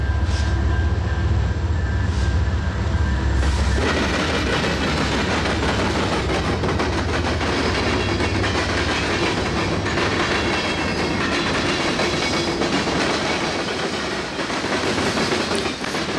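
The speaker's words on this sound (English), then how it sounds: "Another southbound CN train makes an appearance in West Chicago. It is yet another mixed freight." Southbound Canadian National mixed freight train passing in West Chicago, close and loud, with a steady clickety-clack of wheels over rail joints and a continuous roar that keeps going without a break.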